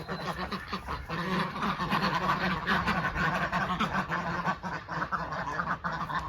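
Ducks quack and honk continuously around a smallholding duck house in May, a busy, close chorus of overlapping calls filling the whole stretch with no clear talk.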